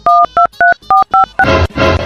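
A series of six electronic keypad tones, each a short, loud beep with pauses between, followed by a burst of static-like noise.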